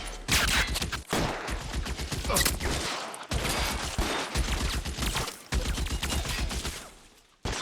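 Sustained bursts of gunfire from a firefight in the video game L.A. Noire, loud and dense, with rapid overlapping shots broken by a few brief pauses.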